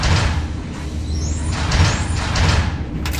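Bus doors close in a Roblox game at a Blachownia P+R stop, a loud hissing, sliding rush of air and motion lasting several seconds and ending in a sharp brief clack, with no talking.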